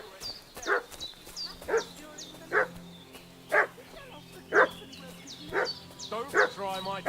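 A dog in the video game Kingdom Come Deliverance II barks repeatedly, about a dozen sharp barks at a steady rhythm, moderately near, with faint background ambience.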